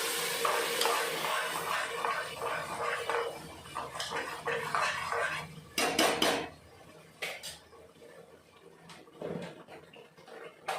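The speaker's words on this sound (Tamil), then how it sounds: "ஃபைன் பேஸ்ட்டாக அரைச்சதை எல்லாம் சேர்த்து அதை இன்க்ளூட் பண்ணி ஒரு 2 நிமிஷம் வணக்கிட்டு நம்ம வெஜிடபிள்ஸ் ஆட் பண்ண போகிறோம்." A spice paste being stirred and sautéed in a pan for vegetable tehari, with a utensil scraping and clinking against the metal and a soft sizzle beneath, the clatter coming in irregular bursts up close.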